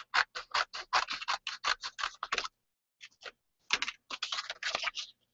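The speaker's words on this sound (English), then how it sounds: "You could rip it, but I'm going to cut this whole corner off." Scissors cut a corner off sheet watercolor paper in quick, crisp snips, a rapid run of close clicks followed by a brief pause and another burst.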